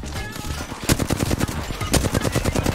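Sustained automatic gunfire in Apex Legends: a fast, steady stream of close, loud shots that builds after a softer start and keeps going to the end.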